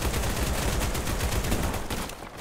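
An AK-47 fires continuous rapid automatic bursts in the game Battledudes, loud and close, dense rattling shots without pause until a brief tail-off.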